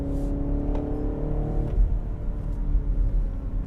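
BMW Alpina XB7 SUV accelerating while cornering sharply, a smooth low engine drone with a steady rising tone, moderately distant and fairly quiet.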